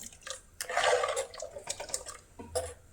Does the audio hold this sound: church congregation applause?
no